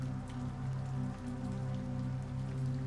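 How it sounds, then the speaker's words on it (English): Steady rain falls in a continuous, even patter with no voices, a dense hiss of drops holding level throughout. "The rain fell all through that first night, and the night after that, and the night after that"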